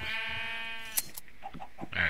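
A sheep in the Minecraft video game bleats once with a wavering, nasal tone, followed by faint clicks and small game sounds, with no talk.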